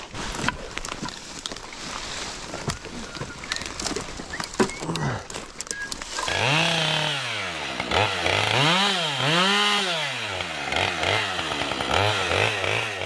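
Two chainsaws cutting brush on a homestead, with buzzing and revving throughout, wavering up and down from about midway, close and loud, with no talk.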